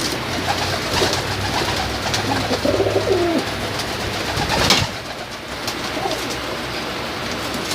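Pet pigeons or doves, a flock of young birds about seven months old kept with nests, coo steadily and close by over a low background hum, with a louder burst of activity near the middle.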